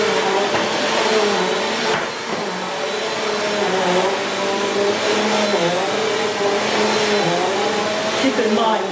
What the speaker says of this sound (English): I am just going to take a couple of minutes and vacuum this rug here.